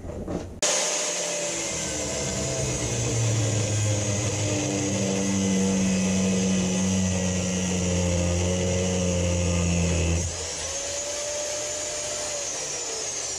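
An angle grinder cuts through crimped copper wire connectors from a scrap haul, giving a loud, steady high-pitched whine with harmonic hum that runs for about ten seconds and then winds down.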